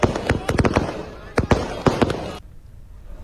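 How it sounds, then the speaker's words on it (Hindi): Firecrackers bursting at a celebration in Chhattisgarh: about ten loud, close cracking bangs in a rapid, irregular string over two seconds before stopping abruptly. "जब पटाखे फोड़े गए खुशी में"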